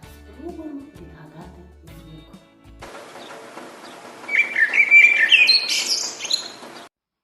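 Small birds chirp and tweet, first faint, then a brighter burst of rapid calls rising in the middle before cutting off abruptly.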